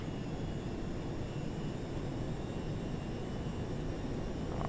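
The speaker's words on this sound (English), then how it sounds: "Engines spool up." The jet engines of a Virtavia Javelin in the FSX flight simulator spool up, giving a steady broadband roar with a faint high whine, even and continuous throughout, with no talking.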